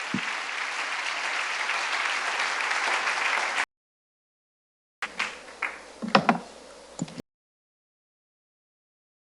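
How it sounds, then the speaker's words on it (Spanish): Church congregation applause: a full, sustained burst of many hands clapping for several seconds that cuts off abruptly, followed after a gap by scattered faint knocks and thumps. "Dele fuerte ese aplauso al Señor."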